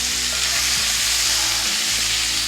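Cheese steak filling fries in a pan with a steady, loud broadband sizzle that holds evenly throughout, close up, with no one talking.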